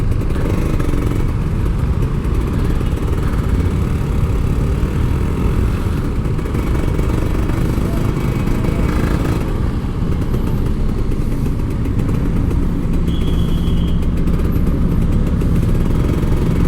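A Kawasaki Ninja RR 150 motorcycle, an older model, runs steadily on a road with a continuous engine drone that swells into revs. Traffic noise surrounds it the whole time, and nobody talks.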